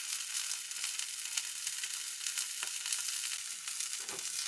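An egg fries in a hot pan for over-easy eggs, its edges crisping: a steady, close, fairly loud sizzle with faint crackles throughout and no voices.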